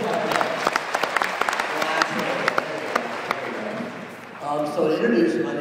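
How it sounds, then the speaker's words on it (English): Graduating class applause at Roger Williams, scattered sharp claps building into a crowd round of clapping, with talking voices mixed in and a speaker's voice rising over the clapping near the end. "Give yourselves a round of applause."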